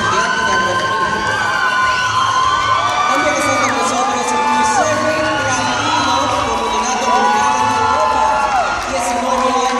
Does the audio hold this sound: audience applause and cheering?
yes